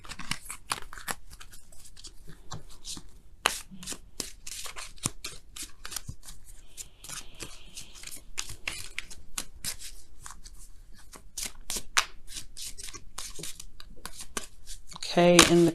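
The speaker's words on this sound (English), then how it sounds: "Now we're going to go ahead and pull you guys your oracle cards for the week." Oracle cards being shuffled for a love tarot reading, with a steady run of quick papery flicks and riffles over about fifteen seconds, close and fairly soft, ending in a brief louder burst.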